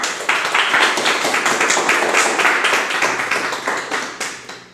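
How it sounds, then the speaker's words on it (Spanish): A church congregation claps loudly together, many hands forming a steady, rhythmic roar that holds for several seconds before thinning out near the end. "Vamos a dar un fuerte aplauso al Señor."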